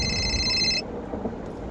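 A telephone rings indoors with a bright, repeating electronic trill that cuts off partway through, leaving only low room noise afterward.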